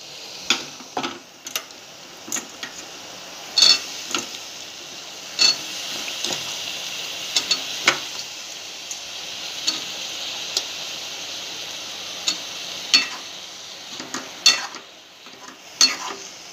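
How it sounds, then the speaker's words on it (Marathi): Drumstick and potato vegetable fries in oil under a soft, even sizzle, broken by frequent sharp clicks and scrapes of a spoon stirring against the pan. "तेल सुटूस तर भाजायचं ह्याला"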